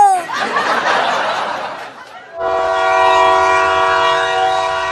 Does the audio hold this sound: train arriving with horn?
yes